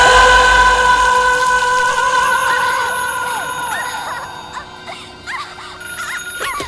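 A telephone rings in a film scene, a loud steady electronic tone running for several seconds beneath other overlapping effects and chirping sounds, fading in the latter half.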